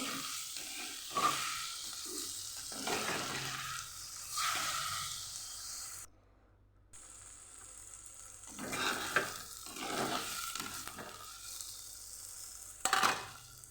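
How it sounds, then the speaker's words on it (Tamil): Tomatoes sauté in a pan for a bitter gourd curry, giving a steady close sizzle with occasional stirring scrapes and one brief quiet break partway through. "தக்காளி சேர்த்து அதையும் நல்லா வதக்கிக்கலாம்."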